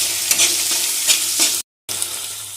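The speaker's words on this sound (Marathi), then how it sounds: "आता घालणार आहे आपण बारीक चिरून घेतलेला एक कांदा।" Finely chopped onion goes into a hot pan for momo stuffing, giving a steady close sizzle with soft stirring scrapes; a brief drop to silence interrupts it near the end.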